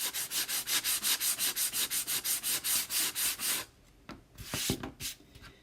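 A surface is sanded with steady, rhythmic back-and-forth strokes, loud and close, about a dozen even passes before a pause and a few lighter, scattered rubs.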